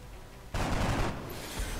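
Gunfire from the turn-based strategy game XCOM: Enemy Unknown comes as a sudden, loud burst of rapid shots lasting about half a second, then a fading rumble.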